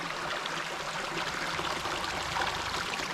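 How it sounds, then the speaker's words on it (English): A shallow stream flows steadily through a cool shaded gully, a constant close rushing and trickling with no voices. "flowing through there"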